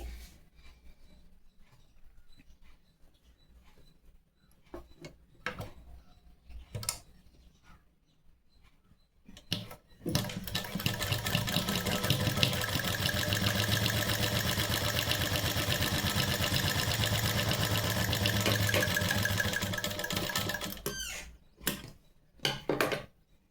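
A sewing machine stitches dots onto the back of a blouse, starting with a few scattered clicks and taps and then running steadily for about ten seconds before stopping, with more taps after it.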